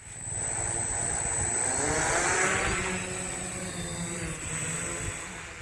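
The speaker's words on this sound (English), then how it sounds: "So let's fly our drone here and let's check if we get any kind of signal or not." A small drone flies over dense vegetation during a LoRa signal range test, its steady motor and propeller whine holding close and even for several seconds with no talk.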